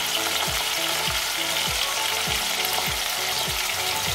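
Slit green chillies fry in a pan for a Bengali moong dal with spinach, a constant loud sizzle throughout with a regular series of low, sweeping thumps repeating roughly every half second.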